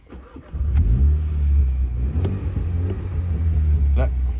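A 2015 Mini John Cooper Works, 231 hp, cranks and fires up, settling into a deep, loud rumbling idle close by.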